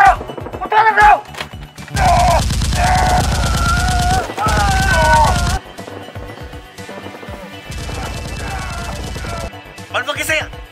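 Nerf guns fire during a staged SWAT fight against a criminal gang: long, loud, rapid bursts of automatic fire with short gaps between them, while voices shout.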